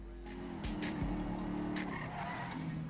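A car in GTA 5 revs and skids through the streets with squealing tires over a steady engine drone, loud and continuous, with no one speaking.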